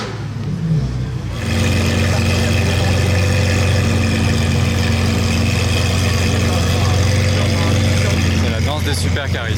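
A convoy of Ferrari supercars, an 812 SVJ and an 812 GTS Novitec, passes at night in Juan-les-Pins. After a quieter first second, a loud, steady engine roar holds to the end, with voices heard over it.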